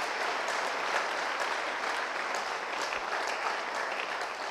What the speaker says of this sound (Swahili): mpigie Yesu makofi mazuri.